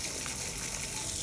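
Water gushing steadily from a push-operated public hand pump on a street in Grenoble, France, a close, continuous splashing flow with no talk.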